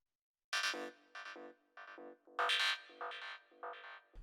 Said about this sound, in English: Our metal fill sound is going to sound something like this.